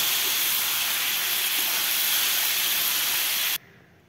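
Chicken cooking in a pan on a home kitchen stove for a Magh Bihu meal gives off a steady, even sizzle that holds for several seconds, then cuts off abruptly near the end.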